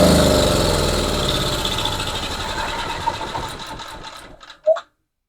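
A small generator engine running on a small carburetor, a fast, buzzy, steady putter close by that slowly fades, then cuts out with a short clunk and goes silent.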